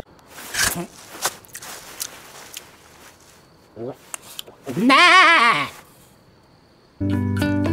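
A sheep's wavering bleat rings out clearly near the middle. Before it come scattered taps and rustles, and a bright electronic tone follows.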